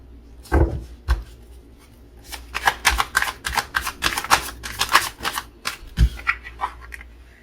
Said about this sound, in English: if nothing falls out, I'll just lay down the cards